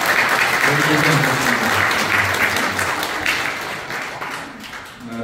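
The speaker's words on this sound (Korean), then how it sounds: "격려의 박수 한번 좀 부탁을" Audience applause of encouragement at a Korean municipal community council evaluation and awards ceremony, a loud, full burst of clapping from a seated crowd that tapers slightly toward the end, with a brief voice speaking at the start.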